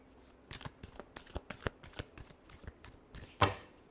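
Tarot cards shuffled by hand in a quiet room, a series of soft, close flicks and slaps in an uneven rhythm, ending with one sharper snap.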